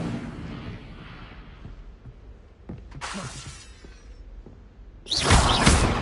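Fiery Incendio spell blasts in Hogwarts Legacy on PS4, two sharp roaring bursts, the second louder and longer, over quieter game ambience.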